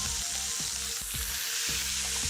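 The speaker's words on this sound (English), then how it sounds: "So, just one end, turn it back down, and sear the other end in." A fillet sears in a hot pan with a loud, steady, close sizzle, joined by a few soft scraping or shifting sounds as the meat is handled; no voices.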